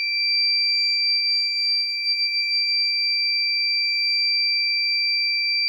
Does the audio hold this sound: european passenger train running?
no